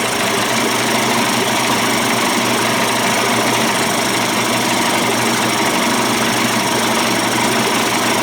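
Johnson Evinrude 25 to 35 hp outboard motor running after a bypass cover change, a loud continuous rough engine drone close by, steady throughout with no talking.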